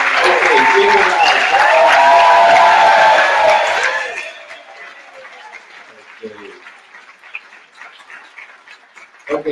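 Loud, warm applause with some cheering from a crowd at a solidarity keynote event, strong for about four seconds before thinning to scattered claps and murmuring voices.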